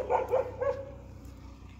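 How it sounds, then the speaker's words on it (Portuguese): An Akita Inu barks a few times in quick succession beside an avenue, a short burst of sharp yaps, then a low steady hum carries on alone. "Já viu o latido do outro cachorro,"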